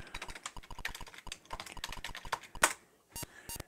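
Numbers being typed on a computer keyboard, a quick irregular run of close, crisp key clicks with short pauses and a brief gap near the end, no talking.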